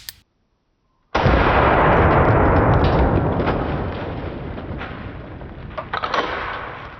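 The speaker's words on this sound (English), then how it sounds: "1897 slam fire shotgun, also known as the trench gun." A single loud blast from an 1897 slam-fire trench shotgun bursts out suddenly after near silence and leaves a long, booming outdoor decay. A smaller clatter follows toward the end.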